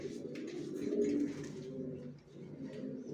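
Young racer pigeons coo close by, a low throaty warble that swells and fades over about three seconds.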